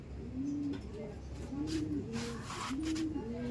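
A white-tailed pigeon coos in close, soft repeated phrases of rising and falling notes, about five or six coos over a few seconds with faint background noise.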